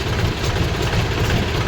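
A loader tractor's engine runs at idle on a village farm, a loud, steady low rumble with a slight vibrating throb throughout and no talking.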